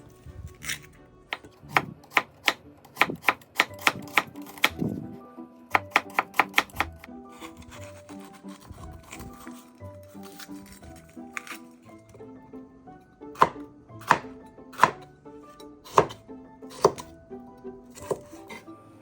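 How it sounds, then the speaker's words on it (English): An onion and half a green pepper being sliced with a knife on a cutting board, bursts of quick, crisp chopping taps in rapid runs separated by pauses, close and loud with no talk. "slice 1 onion and half a green pepper"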